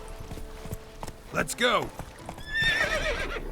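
Horse in the video game The Witcher 3 whinnying loudly with hoof clip-clop underneath, followed by a second neigh; a voice speaks briefly over it.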